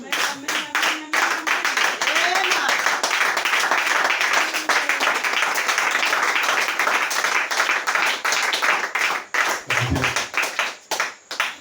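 Church congregation clapping and applauding in a sustained burst of many hands, loud and close, thinning into a few scattered claps near the end.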